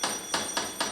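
A telephone bell rings in four evenly spaced bursts, loud and close, in a domestic setting.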